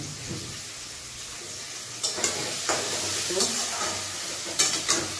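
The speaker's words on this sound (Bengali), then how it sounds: "পেঁয়াজটা ভাজা হচ্ছে" Onions fry steadily in a pan for a summer mutton curry, giving a constant close sizzle with a few sharp stirring scrapes and clinks of a utensil against the pan.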